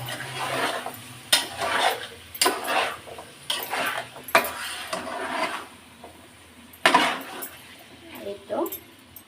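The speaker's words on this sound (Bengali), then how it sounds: "আলু দিয়ে আবারও সুন্দর করে কষিয়ে নিব চিকেনটা" Chicken and potatoes sautéed in a pan, with irregular stirring scrapes and clacks of a utensil against the pot over a faint sizzle. Someone talks at intervals.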